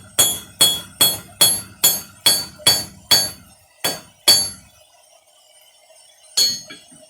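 A hammer strikes hot stock on the edge of an anvil for a hardy cutoff: about nine sharp ringing blows land in steady rhythm, followed by a pause and then one last strike, loud and close.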